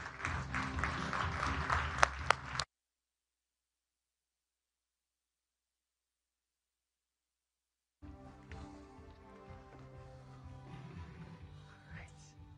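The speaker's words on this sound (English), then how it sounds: "Give him a round of applause" Applause from a conference audience greeting the Thomson Reuters chief executive, loud at first and cut off by a stretch of silence, then returning at a lower level with a murky crowd wash.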